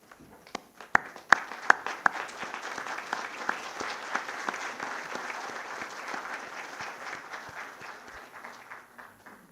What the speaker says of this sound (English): May I request everybody to give a standing ovation